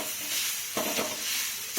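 Onion frying in oil with salt in a pan, a soft steady sizzle close by with a brief stirring scrape in the middle.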